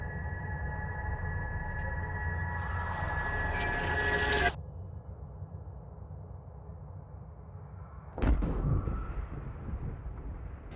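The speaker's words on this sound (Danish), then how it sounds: "det består helt konkret af lydoptagelser, jeg har lavet af våben og granater og kampvogne" Danish military weapons, grenades and tanks heard as a loud, sustained roar that rises to a sharp whining pitch and cuts off abruptly, followed by quieter rumble and then a single heavy blast with a lingering tail.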